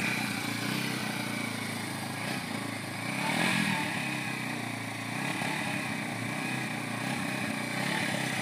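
A 200cc Honda Grom motorcycle engine runs steadily nearby, a continuous buzzy drone with a slight rise midway and no talk over it.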